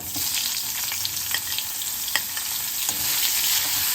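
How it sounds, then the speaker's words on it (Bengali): Chopped onion sizzles in hot oil over a fried spice tempering and is stirred around a pan for a prawn, potato and pointed gourd curry; a loud, constant frying hiss with a few soft spoon scrapes and no speech. "তেলের মধ্যে পেঁয়াজটা দিয়ে নাড়াচাড়া করে নিলাম"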